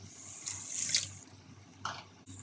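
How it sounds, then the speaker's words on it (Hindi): Half a cup of water pours from a tap-like stream into tomato masala for a shahi fish curry, a bright splashing rush that swells, fades, then returns briefly, close and alone. "अब हम इसमें ऐड करेंगे हाफ कप पानी"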